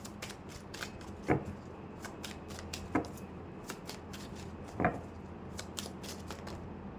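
A single card being drawn from a tarot deck during a reading, soft papery riffles and flicks with three sharper snaps, quiet and close, with no talk.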